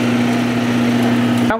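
A Powermatic 14-inch bandsaw motor runs with a loud, steady hum and whine up close, ending abruptly after about a second and a half.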